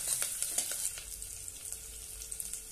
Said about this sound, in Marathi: थोडेसे शेंगदाणे छानपैकी तेलामध्ये परतून घेऊया